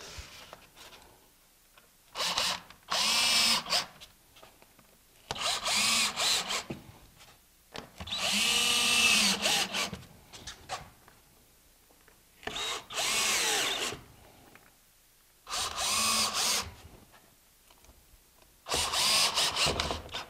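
A power drill drives fasteners through rigid foam board along a wall in repeated short whirring bursts of one to two seconds, separated by quiet pauses, heard close with no talk.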